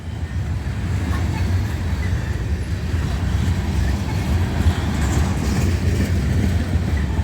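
A freight train of loaded covered hopper cars, likely grain, rolls steadily past in Hamlet, North Carolina, a continuous loud rumble and rattle of wheels on rail that holds without a break.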